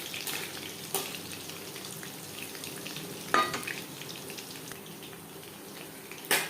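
Battered chicken pakoras fry in oil over a medium flame, giving a soft, steady background sizzle broken by a few sharper pops and clinks, with nobody talking.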